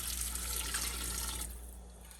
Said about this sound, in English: we're going to slowly add 8 cups of water.